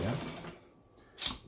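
A sewing machine fitted with a motor and case runs in short mechanical bursts, whirring loudly at the start and again near the end with a quieter lull between.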